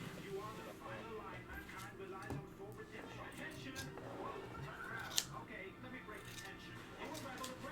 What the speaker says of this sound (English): you want to do short little kind of snips, because you don't want it to cut all the fur all the way through